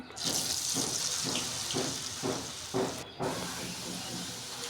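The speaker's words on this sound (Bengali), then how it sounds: "মিশানো হয়ে গেলে এগুলাকে আমি ডুবো তেলে ভেজে নিব" Meat pieces coated in cornflour and flour deep-fry in oil, making a loud, continuous hissing sizzle that swells in a steady rhythm.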